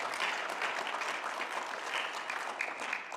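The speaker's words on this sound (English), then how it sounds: "Yes, we can clap for Brandon." Audience clapping at a bar mitzvah service, a soft, steady patter of many hands in a room, moderately distant and continuous throughout.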